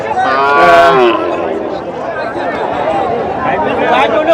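Cattle low over a busy pre-Eid livestock market crowd in Nilphamari, Bangladesh, with people talking and chattering throughout.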